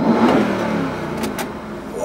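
Mercedes G63 AMG engine revving while driving: a throaty, rising roar heard from inside the cabin, loud and continuous for about two seconds.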